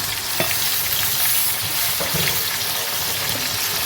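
Chicken pieces frying in a pan for Malabar chicken biryani make a loud, continuous close-up sizzle, with a few faint clicks from stirring throughout.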